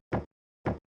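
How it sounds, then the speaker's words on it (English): A pair of short, muffled percussion hits, dry and knock-like, evenly spaced about half a second apart. "we need the dark percussions to complement this one,"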